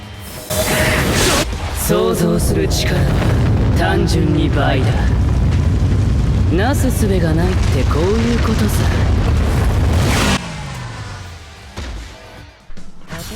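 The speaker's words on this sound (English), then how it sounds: "we'll go ahead and play the soul bomb animation again" Soul bomb attack animation in the Bleach Brave Souls game, a long, loud roaring blast of booming explosions and rumbling effects lasting about ten seconds, then trailing into quieter game sounds.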